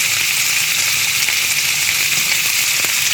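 Tilapia fillets pan-frying in olive oil give off a loud, steady, close sizzle with a crackling hiss throughout and no voices.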